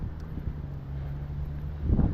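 Wind buffets a microphone outdoors while someone walks in a town, a steady low rumble that grows to heavier gusts at the end.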